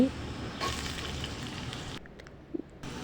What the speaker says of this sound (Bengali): প্রথমে চুলাই কড়াই বসিয়ে তেল গরম করে নিয়েছি এখন এর মধ্যে আমি কুচি করে রাখা আলুগুলো দিয়ে দিচ্ছি